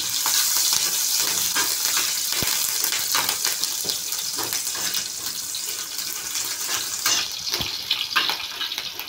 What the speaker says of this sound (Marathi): चांगलं फ्राय करून घेऊ